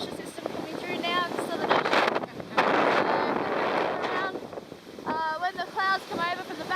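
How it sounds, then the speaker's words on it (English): Strong Southern Ocean winds of about 25 knots, gusting to 30, roar and buffet against a racing yacht at sea, rising in heavy gusts with water rush, while voices talk intermittently over the wind. "winds of about 25 knots, gusting up to 30 knots"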